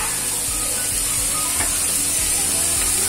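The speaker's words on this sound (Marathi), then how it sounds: "आता ह्याच्यामध्ये आपण टाकूया जिरे पावडर 1 चमचा, आमचूर पावडर 1 चमचा, धना पावडर" Cumin, amchur and coriander powder stirred into a pea stuffing in a hot pan, with a steady close sizzle and faint scraping strokes throughout.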